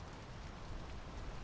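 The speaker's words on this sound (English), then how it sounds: "The rain's picking up." Rain falling in the video game Draugen, a dense, steady downpour hissing on surfaces with no voices.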